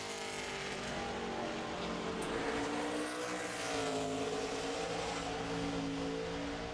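A 2009 NASCAR Cup car runs a qualifying lap at Richmond, its loud V8 roaring continuously with wavering pitch as it accelerates and lifts through the corners, with a faint crowd bed underneath.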